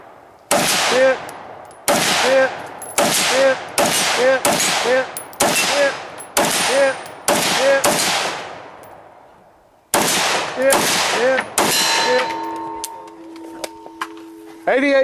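Gunshots at a shooting match stage, about ten sharp, loud reports in a steady rhythm, each with a short echoing tail, followed by a pause and a final shot before fainter clatter and ringing.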